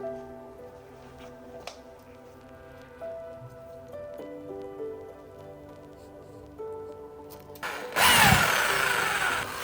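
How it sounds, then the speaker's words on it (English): A power drill bores a 10mm hole in a CD solar panel, a loud, harsh burst of grinding that starts late and runs to the end after quieter background music. "And we make two 10mm diameter holes, like this."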